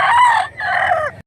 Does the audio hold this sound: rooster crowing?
yes